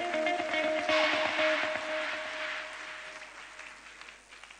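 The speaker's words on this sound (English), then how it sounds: "Another round of applause" Audience applause at an entrepreneurship forum awards ceremony, a broad rush of clapping that swells early and slowly fades, heard at moderate distance in a large hall with a faint steady tone underneath.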